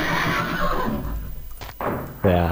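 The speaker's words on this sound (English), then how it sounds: "There's the horse." A horse in the video game Alone in the Dark 3 lets out a loud, close whinny that rises out of the game's background sounds near the end.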